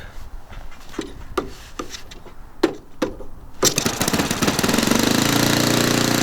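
Quarter-scale Sopwith Pup RC model plane's glow engine being primed and started: a few sharp pops and clicks, then at about 3.7 seconds it fires up into a loud, steady buzzing run that holds to the end.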